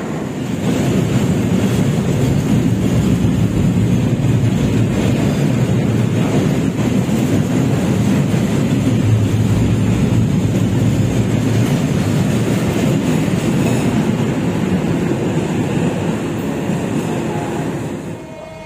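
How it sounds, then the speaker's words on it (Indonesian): A long, heavy rumbling roar of a freight train departing through a dense Surabaya neighborhood, steady and loud with rattling, wind-like noise throughout. "Dan ini kereta barangnya langsung diberangkatkan."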